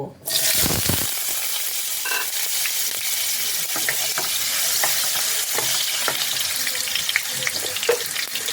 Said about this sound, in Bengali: এবার এই আলুগুলোকে আমি তেলের মধ্যে দিয়ে লালচে করে ফ্রাই করে নেব